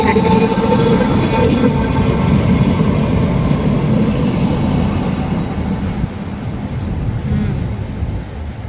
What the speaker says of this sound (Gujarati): જો હવે ટ્રામ આવે છે